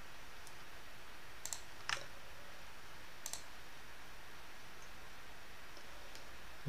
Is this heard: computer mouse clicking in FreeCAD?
yes